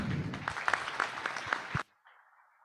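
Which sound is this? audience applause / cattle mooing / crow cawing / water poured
audience applause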